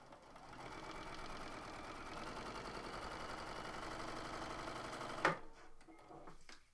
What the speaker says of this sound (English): And I'm just sewing a straight stitch.